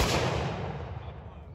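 Militia reenactors at a living history battle site fire a musket volley, a loud broadband blast at the start that decays over about a second and a half into a rumbling echo.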